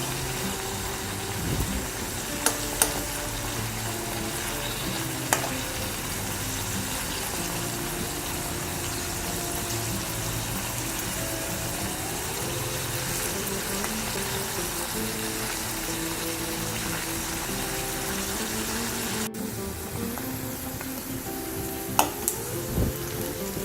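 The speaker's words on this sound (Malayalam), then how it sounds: "ഒരു ഭാഗം ഫ്രൈ ആയി കഴിഞ്ഞാൽ നമ്മൾ അതൊന്ന് തിരിച്ചിട്ട് കൊടുക്കണം." Prawns frying in a pan for Kerala-style chemmeen roast, giving a steady, close sizzle and crackle with a few louder pops, and no talking.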